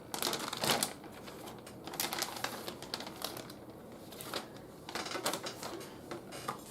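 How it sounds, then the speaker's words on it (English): Knife trimming excess fat off raw pork chops, a steady run of close, crisp scraping and crackling cuts with small pauses, with no talking. "so I'm trimming the excess fat"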